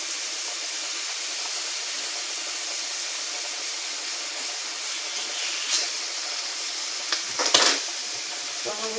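Marinated food sizzling in a hot pan, a loud steady hiss with a brief scrape and louder burst of sizzle near the end as the pieces are flipped, no talking.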